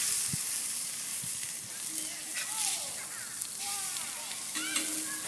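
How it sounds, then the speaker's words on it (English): Tuna burgers fry in virgin olive oil in a cast iron skillet on a grill, giving a steady close sizzle and hiss with occasional scraping, while a person talks over it. "I used a virgin olive oil to cook my tuna burgers in my cast iron skillet on the grill"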